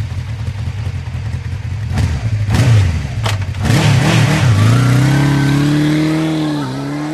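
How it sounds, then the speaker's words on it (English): A motorcycle engine revs loudly and up close, with rising and falling throttle bursts that climb into a sustained high whine before easing off. "Motorcycle."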